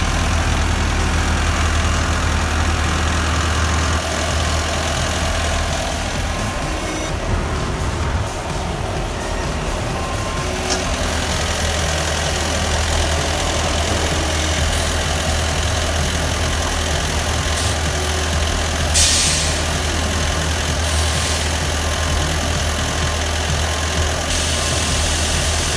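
Tipper truck engine idling at a landfill, a loud steady diesel rumble held unchanged for the whole stretch, close by with faint intermittent hiss bursts.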